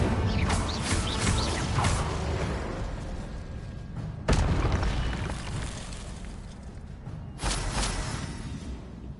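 Incendio fire spell cast in Hogwarts Legacy, bursts of whooshing flame and crackling impacts, loud and close, with a few sharp onsets spaced several seconds apart amid busy game sound.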